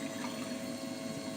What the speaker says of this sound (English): We turn the pump on.